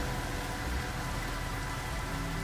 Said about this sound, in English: oh, toxic rain